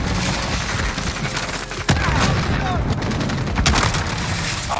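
Sustained automatic fire from an FN SCAR 17 rifle shooting tracer rounds in the video game Modern Warfare, a dense loud rattle of shots with a couple of sharper cracks and booms standing out.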